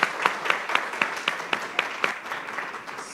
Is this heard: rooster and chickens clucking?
no